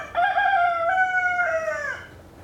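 A single rooster crows loud and close, one long drawn-out call that rises, holds and trails off, with no other sounds around it.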